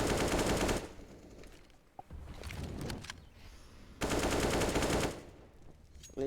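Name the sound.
AK rifle gunfire in Counter-Strike video game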